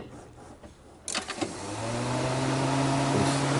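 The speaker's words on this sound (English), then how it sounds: "You can hear that other fan over there." A 2007 Cadillac DTS electric cooling fan spins up with the ignition on and the engine off, a steady close whirring hum that builds and holds after a brief click and clatter.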